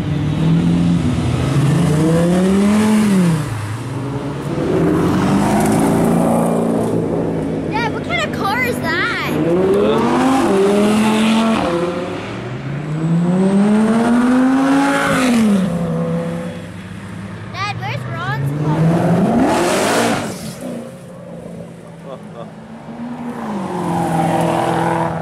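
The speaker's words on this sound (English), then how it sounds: "That car's fast." A powerful car engine revs and roars past, pitch sweeping up and down through gear changes, loud and close, with brief voices in between.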